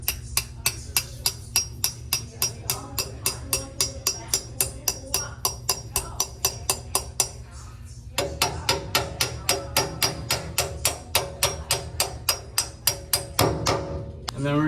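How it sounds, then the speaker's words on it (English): Rapid, regular hammer strikes while installing an ATM, about two per second, sharp and close, continuing steadily with a brief pause partway through. "let me take our hammer and we just hammer it in."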